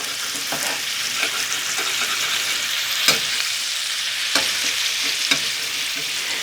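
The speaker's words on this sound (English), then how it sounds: "So what we're doing now is browning it." Turkey fillets brown in a hot pan with a loud, continuous sizzle up close, broken by a few sharp clicks and taps from a utensil.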